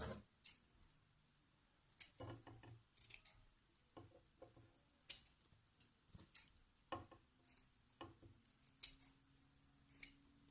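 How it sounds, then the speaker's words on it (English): Scissors snip the fabric corners of a shaped mask, a series of quiet, crisp cuts in irregular bursts, close and alone in a still room. "Now I'm going to trim my corners."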